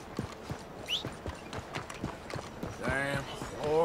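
Quick, rhythmic clip-clop of horse hooves in Red Dead Redemption 2, fairly close, followed by a short whinny near the end.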